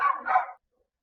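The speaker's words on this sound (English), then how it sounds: "Pardon the barking, those are my dogs." Two quick dog barks close by, one right after the other, then silence.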